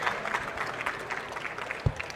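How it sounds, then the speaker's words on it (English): An audience at a founders and investor pitch event claps after a pitch, a moderate spread of applause rippling steadily, with one sharper knock near the end. "please give a round of applause to him"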